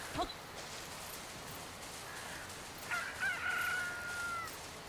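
A chicken in the video game Dragon Quest Builders 2 gives a brief cluck near the start, then a longer crowing call later, faint against a steady background hum.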